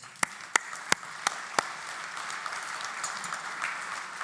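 Farewell applause from an audience: a few sharp, loud claps ring out first, then a softer, more distant spread of clapping continues faintly in the background.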